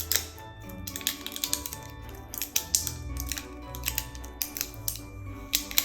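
Tape peeled off a Cricut Infusible Ink coaster, a run of crisp, close ripping and crackling bursts at an irregular rhythm over faint background music.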